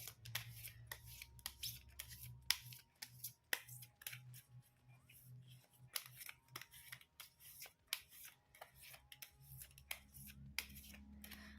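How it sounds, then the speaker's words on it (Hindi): Tarot cards are shuffled by hand in quick, crisp riffles and soft slaps, a rapid irregular clatter close by with a low hum underneath and no talking. "कार्ड्स हो गए हैं शफल"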